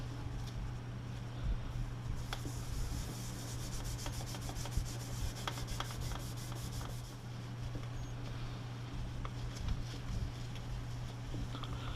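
Scrubbing crud from around the tube sockets of an old Peter Pan radio chassis during de-rusting, heard as continuous soft rubbing and scraping with faint rapid patter over a steady low hum.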